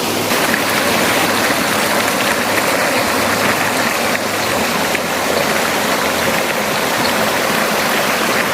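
Hot spring water at Ie Suum in Aceh Besar rushing in a steady, close, full-bodied wash that never lets up.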